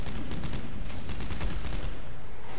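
Rapid gunfire from a weapon in the sci-fi horror video game Dead Space 3, a dense continuous burst of shots that fills the whole moment loudly with no talking over it.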